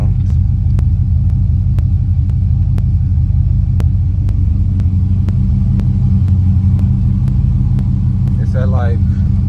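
Buick Regal engine fitted with Holley EFI, idling around 700 RPM after a cold start, a loud steady low rumble with regular faint ticks, and a voice speaking over it.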